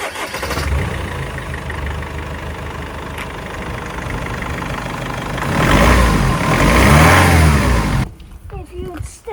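An old camper race van project engine cranks, starts and idles roughly, then revs loudly and close by for several seconds before cutting off, with brief speech in the quieter moments.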